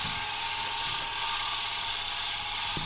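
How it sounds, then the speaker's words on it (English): A steady, loud high-pitched drill whine runs continuously without a break as it bores into wood for pen making, close up, with no voices. "We're going to start drilling."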